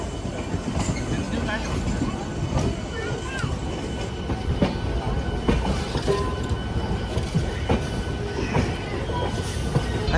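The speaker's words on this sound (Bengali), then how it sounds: "সাথে সাথে কিন্তু মেদিনীপুর লোকালও কিন্তু বেরোচ্ছে" A Medinipur local train pulls out of a station, with steady rumbling and clattering wheels close by amid platform bustle and faint background voices.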